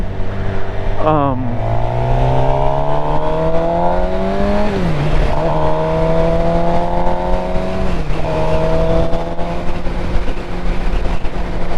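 A 2020 Suzuki GSX-R750 motorcycle engine at close range while riding, loud and steady, with rising and falling revs as it shifts through gears and wind rush underneath; a rider talks over it.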